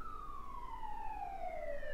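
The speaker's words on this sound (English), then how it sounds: "There's a siren going past." A siren wails in a long, gradually falling tone, moderately distant, sliding lower as it passes by.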